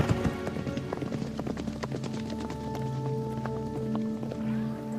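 Mustang horses galloping, hooves clip-clopping in a quick, continuous rhythm close by, with tonal music or sustained sounds running underneath throughout.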